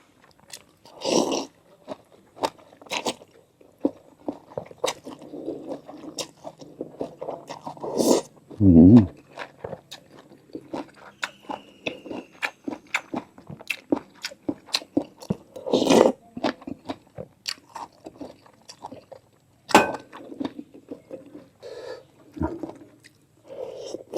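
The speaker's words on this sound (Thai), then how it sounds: "กรอบๆนะตับหมูครับ" Crispy pork liver at a rustic suki meal, bitten and chewed up close: repeated loud, sharp crunches and wet chewing spread across the stretch, with brief pauses between bites.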